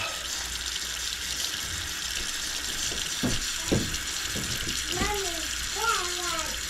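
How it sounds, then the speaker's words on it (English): Cold water runs from a tap into a basin to thaw a deer roast, a steady broad rush throughout, with a few low knocks and clunks of the basin and roast near the end. "We're gonna sit in a basin of cold water and let it thaw."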